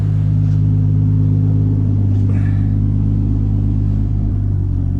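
A car with a 2JZ engine that had clutch problems pulls away, its steady low engine rumble loud and close throughout with no clear revving peaks.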